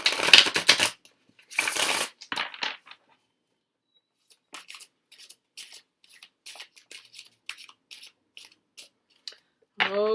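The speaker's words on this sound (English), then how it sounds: "So we're going to go ahead and shuffle." Brisk bursts of tarot cards being shuffled, a couple of riffles followed by lighter, scattered card flicks and taps, close up and alone.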